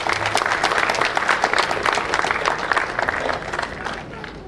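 A seated audience at a Heart Day event at Kalra Hospital breaks into sustained, dense applause that holds loud and even for several seconds, then begins to thin out.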